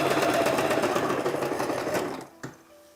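Sewing machine running steadily as it stitches a seam along the woven edge of a little girl's dress, a loud close whir that slows and stops near the end, followed by a single small clunk.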